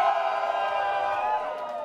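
A sold-out crowd of over 300 people packed into the Sherbrook Inn cheers and whoops loudly, a dense, sustained roar of many voices filling the room.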